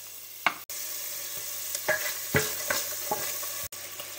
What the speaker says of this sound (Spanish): Lo primero que he hecho es el bacon. Para que suelte la grasa que tiene